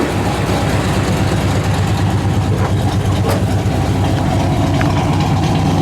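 A 1975 Chevrolet Camaro LT with a numbers-matching 350 V8 and dual exhaust idles steadily up close, a loud, even low rumble with no voices over it.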